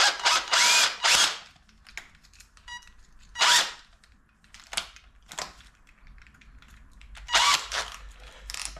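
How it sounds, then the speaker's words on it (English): A power drill pilots a hole in the top of a jar in several short, loud bursts of whining and grinding, separated by quiet pauses and a ratcheting click, close up with no talk. "But first of all, we need to pilot the hole so the drill doesn't wander around."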